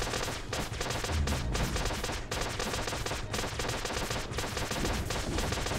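Rapid gunfire from shooting eyeballs in Flinthook, a dense, continuous stream of shots in steady rhythmic bursts, loud and without talk.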